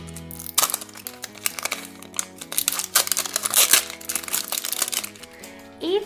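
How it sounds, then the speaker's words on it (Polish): Protective plastic foil crinkles and tears as it is peeled off a pink LOL Surprise toy banana, a busy run of close, loud crackling and rustling throughout. "Ściągamy folię zabezpieczającą."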